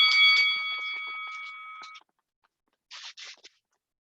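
An electronic workout timer buzzer sounds a steady two-second tone, then falls silent before a few short, clipped bursts of noise.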